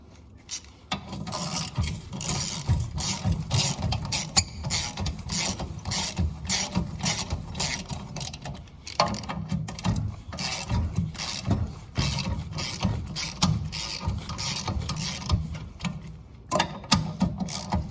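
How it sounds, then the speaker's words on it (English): A rusty axle part on a 31-spline 8.8 rear end being unscrewed with a ratchet, steady mechanical clicking and grinding that runs nearly continuously, close and fairly loud, with no voices. "As rusty as this is, I'm surprised it's actually unscrewing"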